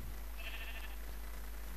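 Sheep bleating in the Minecraft video game, a single short bleat near the start, quiet and alone over a faint steady background.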